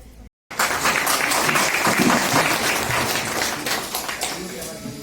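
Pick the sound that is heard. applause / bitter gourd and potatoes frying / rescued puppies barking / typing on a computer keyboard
applause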